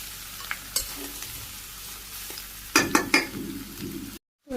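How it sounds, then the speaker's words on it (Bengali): Raw jackfruit stir-fried with spices in a pan, a soft sizzle broken by sharp spatula scrapes and clinks against the pot, with a brief cluster of stirring strokes near the end. "আমি সুন্দর করে ভাজি করে নিই, মানে কষিয়ে নিই"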